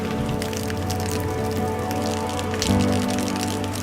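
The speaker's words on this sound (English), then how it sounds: "Under tropical rain, we are on our way to Kigamboni." Steady tropical rain pours down on the way to Kigamboni in Tanzania, a dense continuous patter that stays loud and even throughout, with a low hum underneath and no voices.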